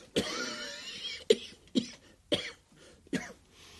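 A man coughs in a 1985 East German radio drama: a long rough hacking fit, then four separate harsh coughs spaced about half a second apart, close and clear with no talking.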